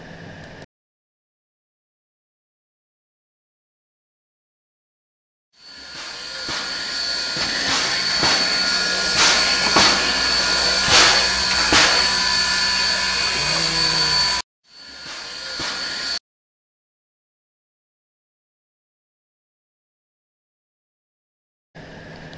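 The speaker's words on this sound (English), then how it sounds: "Now I'm going to import the audio that I recorded of the locomotive idling in Phillipsburg" A recording of a steam locomotive idling in Phillipsburg, New Jersey: a continuous loud hissing roar with a steady whine runs for about nine seconds, breaks briefly, resumes for a couple of seconds, then falls silent.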